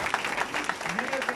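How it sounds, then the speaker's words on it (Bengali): Applause from a crowd at a network marketing training session in Bangladesh, rhythmic clapping bursts under a voice speaking over it, brief and fairly close. "মাঝে মাঝে হাততালি দিতে পারেন"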